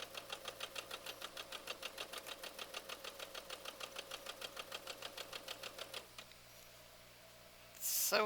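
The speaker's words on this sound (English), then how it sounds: "Sew another one of these half square triangles together." Sewing machine stitching half-square-triangle quilt pieces, a fast regular run of needle strokes at close range for about six seconds, then the motor stops and a quieter handling noise follows before a brief louder rustle.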